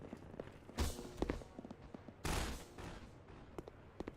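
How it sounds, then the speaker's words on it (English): Bursts of gunfire in the video game Hunt Down the Freeman, two loud volleys about a second and a half apart, followed by scattered softer shots and thuds. "Gunfire already."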